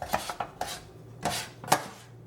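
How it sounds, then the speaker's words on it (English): A spoon scrapes the last of a Canadian bacon and broccoli casserole out of a pan in a handful of short, close scrapes and clinks, each separated by a brief pause. "Just getting every last bit out of my pan."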